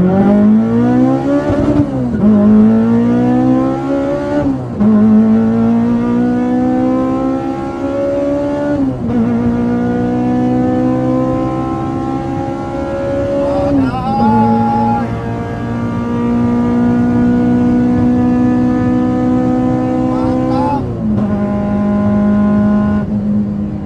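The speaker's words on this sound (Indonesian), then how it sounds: "Mesinnya K-Series NA, kayak street race, top nih. Kita gas ya." A Honda Brio fitted with a naturally aspirated K24 K-Series engine revs hard and loud, close up, in repeated rising pulls with brief drops between them, with no talking.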